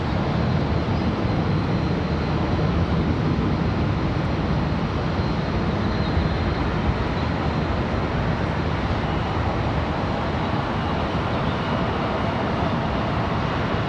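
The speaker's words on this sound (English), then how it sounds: "There's a Mad Dog right there. The Boeing 717, formerly the MD-95." Delta Boeing 717 (formerly MD-95) jet airliner at Charlotte Douglas International Airport, a steady broadband engine roar that holds loud and constant throughout, with no talk over it.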